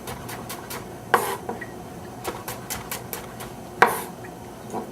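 A knife cuts carrots into julienne strips on a board in a quiet, irregular series of soft taps, with a couple of sharper knocks standing out.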